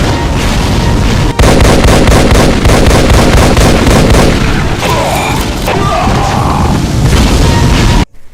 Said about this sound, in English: Firing legendary Demon Tech BFG shots.